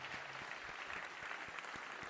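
A large audience at the International Physics Olympiad 2025 closing ceremony in France claps steadily for a bronze medal winner, an even wash of applause with a few sharper individual claps standing out.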